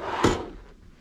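A drawer in the cockpit of a 2009 Monaco Executive motorhome slides and knocks shut, one quick wooden thump followed by a brief fading rattle.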